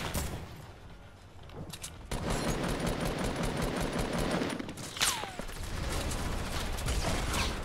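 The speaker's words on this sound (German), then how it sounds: "Wer schießt hier mit Raketenwerfern, hä?" Rocket launchers and weapons in Fortnite fire in a dense, crackling barrage with sharp bursts and a whooshing streak partway through, loud and sustained.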